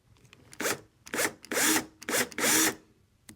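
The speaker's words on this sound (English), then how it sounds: "I'm going to use my jigsaw to cut out this hole, but I'm going to get a starting hole first with this" A drill bit bores a starting hole in plywood, sounding in several close, loud grinding bursts of about half a second each, separated by brief pauses, with no talking.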